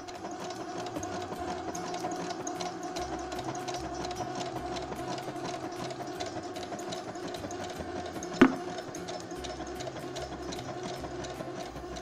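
Brother SQ9000 sewing machine embroidering decorative stitches at medium speed, a steady rapid mechanical whir and needle clatter running the full length, close and even, with one brief sharp knock near the end.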